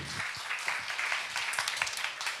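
Audience applause at a deep tech accelerator demo day, a steady dense wash of many hands clapping through the whole stretch, moderately loud and even, with no voices on top.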